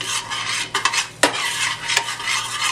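Spoon stirring sugar and spice in a heating pan for a vegan bananas foster caramel, a steady broadband scrape with a few sharper clinks of utensil on pan, close and continuous for nearly three seconds.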